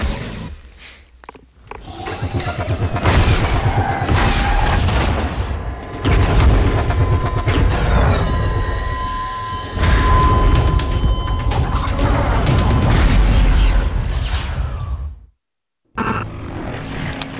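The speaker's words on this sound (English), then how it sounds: "So that was the EMP thing that the hunters have to look out for now" An EMP blast in the game Evolve goes off as a loud, sustained roaring boom with mechanical, electronic textures that runs for many seconds, cuts out briefly near the end and then resumes.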